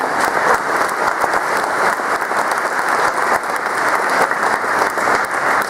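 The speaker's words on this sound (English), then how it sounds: "Can we give them a round of applause, please?" A crowd at an athletic hall of fame dinner applauds a booster club, steady full clapping filling the room for several seconds without pause.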